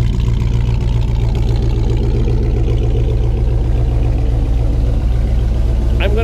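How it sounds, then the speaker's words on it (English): A 1949 Chevrolet 3100 five-window pickup idles steadily through its exhaust pipes, a low continuous rumble held close and loud from start to end, with a faint voice underneath. "got a nice sounding set of pipes on it"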